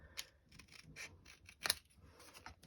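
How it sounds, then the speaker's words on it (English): Scissors snip through a thick paper greeting card, trimming a sun shape; a handful of sharp, separate cuts spaced irregularly, close and fairly quiet, with no talking. "And then we'll trim this,"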